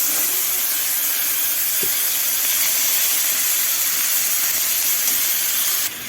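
Egg-leaf greens dropped into hot oil seasoned with dried red chilli and slit green chilli set off a loud, steady hiss of sizzling that runs unbroken for several seconds and cuts off sharply near the end.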